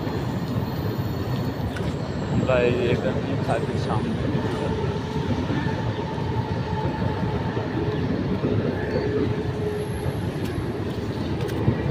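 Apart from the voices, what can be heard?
local train passing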